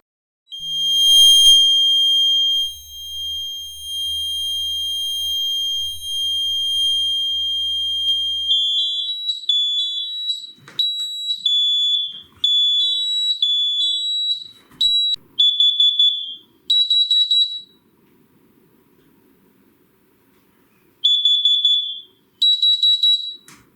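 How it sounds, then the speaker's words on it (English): High-pitched electronic alarm tones from an ADT home security system: a steady piercing beep, then stepping warbling pulses and short repeated bursts with pauses between, the security, fire and CO alarm sirens. "they all have different siren noises"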